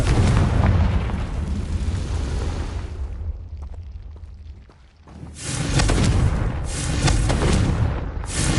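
The Confringo blasting spell in a Harry Potter video game erupts as loud, booming explosions, one sustained rumbling burst, then a brief lull, then another heavy blast, close and powerful with no speech.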